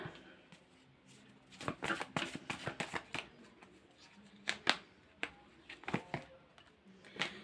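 Tarot cards being shuffled during a reading, quick riffling bursts and soft slaps in irregular clusters, close and fairly quiet with no talk.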